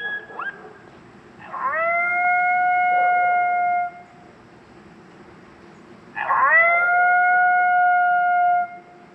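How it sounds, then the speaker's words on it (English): Two long coyote howls are played from a Foxpro Patriot electronic game call, each a rising then sustained, sliding tone lasting about two seconds, loud and clear over faint background noise. "Let's do a coyote long howl."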